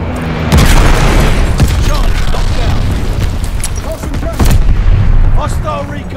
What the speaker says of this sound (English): Got an enemy glide bomb on the way.